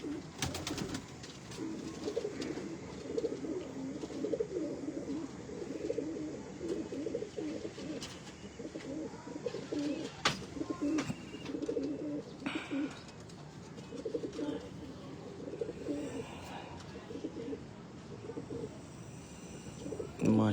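Pigeons coo softly in a breeder's loft, repeated low throaty phrases close by, while people chat quietly over them.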